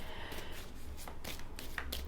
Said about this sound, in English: I'm inclined to put them back in and carry on shuffling.